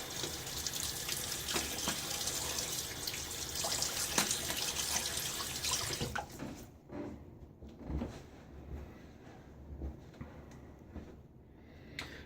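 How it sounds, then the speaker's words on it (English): Tap water runs into a bathroom sink while a man wets his face before shaving, a close steady splashing stream that stops partway, leaving soft drips, small splashes and handling noises. "Gonna get my face wet."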